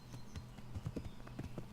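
Horse hooves clip-clop at a trot in Kingdom Come: Deliverance, a steady run of close, fairly loud thuds with no talking over them.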